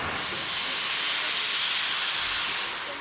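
Steady, loud roaring hiss of steam venting from locomotives being steamed and prepared inside a loco shed, continuous and close with no break.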